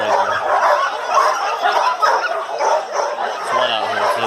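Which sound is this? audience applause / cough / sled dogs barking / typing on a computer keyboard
sled dogs barking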